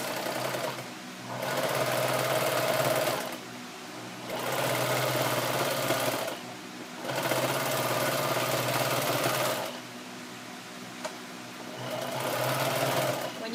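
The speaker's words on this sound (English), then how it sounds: "sew right up to where you have your pin" A sewing machine stitches denim from old jeans in four long, steady runs of rapid mechanical hum, separated by short pauses, close and clear.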